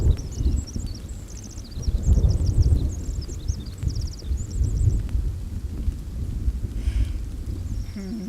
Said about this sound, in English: I feel like as soon as I light something up, it starts raining.